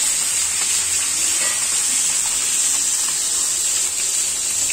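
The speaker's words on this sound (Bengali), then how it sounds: "এভাবে সুন্দর করে ভেজে নিবেন" Food frying in a pan, a dense continuous sizzle and hiss held close and loud for the whole span, with faint stirring.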